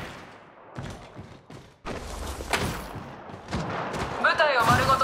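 Rapid bursts of gunfire in Apex Legends Mobile with sharp cracks and thuds, followed by a short synthetic voice line near the end.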